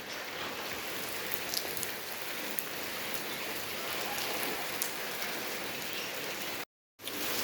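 Heavy rain pours steadily onto surfaces in a dense, even hiss during a thunderstorm, with scattered louder drops and a brief dropout near the end.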